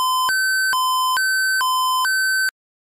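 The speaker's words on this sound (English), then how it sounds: "You've activated the silliness alarm." A two-tone electronic alarm from the ZZT video game alternates between two pitches in five clipped, evenly spaced beeps. It plays loud and alone, then cuts off.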